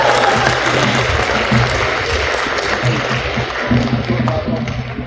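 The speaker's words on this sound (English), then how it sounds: "we're going to give them another round of applause" Loud, close audience applause for sophomore storytellers at a story slam, continuous clapping with occasional low voices mixed in.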